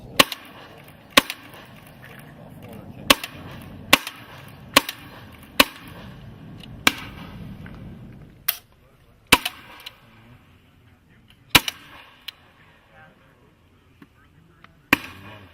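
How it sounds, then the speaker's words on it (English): A rifle fires at a shooting range, about a dozen loud, sharp shots spaced roughly a second apart with short pauses, each ringing out briefly outdoors. "So shoot 6, and then we'll reload again with the next 6, and then you'll shoot 6 rapid fire"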